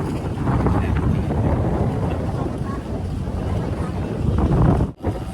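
Gusty wind buffets the microphone in a steady low roar, with a brief dropout near the end; no clear speech.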